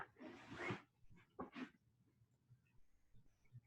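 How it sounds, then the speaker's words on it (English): Dog wearing a large cone on its head whimpering and whining, two close, faint breathy whines followed by quieter snuffling. "that noise is my dog because he has a giant cone on his head"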